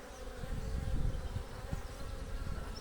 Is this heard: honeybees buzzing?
yes